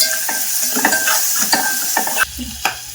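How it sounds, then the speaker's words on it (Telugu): Curry leaves fry in hot oil in a pan for vermicelli noodles: a continuous close sizzle with the scrape and clink of a stirring spoon, then a sudden louder crackle near the end, with no talking. "కరివేపాకు వేసుకొని బాగా ఫ్రై అవ్వాలి."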